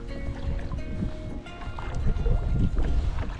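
Kayak paddling on the Upper Neuse River with wind picked up, soft paddle splashes and water swishing under steady wind noise buffeting the microphone.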